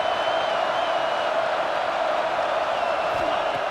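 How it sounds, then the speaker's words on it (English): A steady, loud stadium crowd roar with a dense murmuring wash and no distinct breaks, heard during a red zone defensive stand in the college football video game NCAA 26, Boise State at Colorado State in the Mountain West title game. "And here comes the noise. This crowd is trying to inspire this defense to make a big red zone stop."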